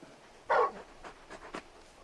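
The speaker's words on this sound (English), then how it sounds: "You're just a big puppy, aren't you? A very big puppy." A dog panting in Final Fantasy XVI: a few quick, soft breathy puffs at close range, with one louder burst early on, and no talking.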